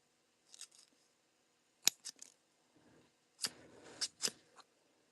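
Close, crisp snips of scissors cutting paper, coming in small bursts of two or three quick cuts separated by short quiet pauses.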